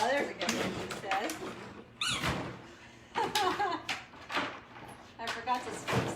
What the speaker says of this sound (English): Oh, she's finding a squeaker there.